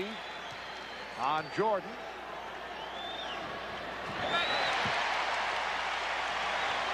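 A basketball arena crowd at a Bulls vs Cavaliers playoff game murmurs and then swells into a broad reaction to a foul call, building loud and sustained in the second half while a commentator speaks over the start.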